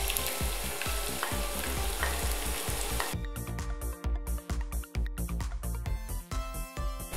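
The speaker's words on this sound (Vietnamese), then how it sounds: "Mình chờ cho dầu nóng trở lại thì mình sẽ cho hành tím vào để phi thơm" Shallots sizzle loudly in hot oil, a constant crackling hiss, then turn into sharper spitting pops and scraping as they are stirred in the pan.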